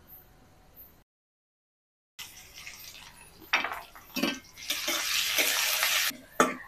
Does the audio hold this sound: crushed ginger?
yes